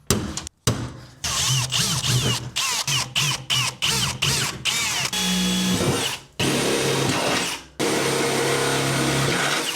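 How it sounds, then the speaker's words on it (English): A loud whining vacuum cleaner starts and stops in many short bursts, then runs in longer stretches, up close. "gonna give that a quick vacuum again"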